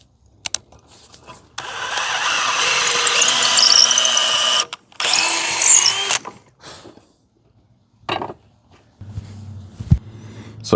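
Power drill boring holes into wood while building a backyard egg chair swing arbor, two loud whining bursts of a few seconds each separated by a pause, followed by quieter clicks and handling noises.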